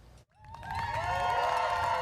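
A crowd at the finish line of a 7,500-kilometre cross-country motorcycle journey bursts into a swelling roar of cheers and applause that builds and holds loudly.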